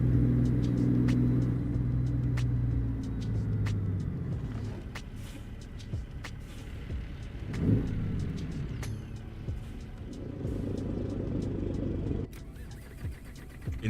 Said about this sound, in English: These little grinds in between the shifts are actually irritates me.